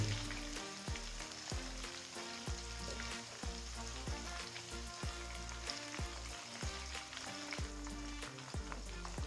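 Spicy chicken wings frying in hot oil until golden brown, a steady dense sizzle filling the whole stretch with regular rhythmic knocks or thumps running underneath, no talking.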